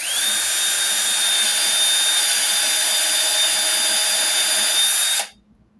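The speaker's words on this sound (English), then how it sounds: "can drill this out" A power drill whines loudly and steadily for about five seconds while drilling out a Pioneer PL-518 turntable foot insert, then cuts off abruptly, leaving near silence.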